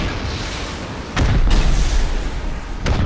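Gunfire striking base walls during a raid in the video game Rust: loud, dense rumbling barrage with sharp impacts around one, one and a half and three seconds, continuous and close.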